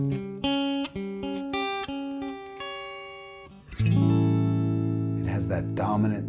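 A guitar climbs through Mixolydian double-stop intervals across an octave in a steady series of plucked pairs, ending on a louder strummed, ringing chord. Close, with no voices.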